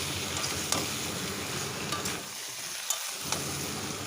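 Fried prawns, pumpkin and sugar are stir-fried in a hot pan, producing a dense, continuous sizzle with a few brief spatula scrapes and a short dip in the hiss midway.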